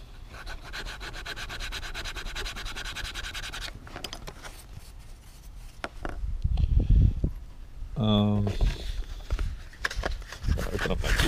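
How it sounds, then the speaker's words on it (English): Rapid back-and-forth sanding of driftwood, a raspy scratching rhythm that pauses, then resumes with brief speech and handling noises between strokes. "One more sanding."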